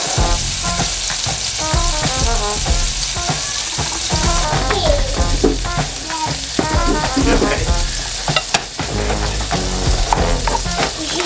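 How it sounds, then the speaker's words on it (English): Goat burgers frying in a pan, a steady close sizzle and crackle with repeated scraping and stirring clatter throughout. "the last three burgers are cooking"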